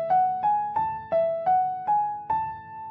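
On a keyboard, a short ear-training melody rises stepwise through a major scale: seven or eight clear, evenly spaced notes that start over and climb again, each decaying quickly, with no talking.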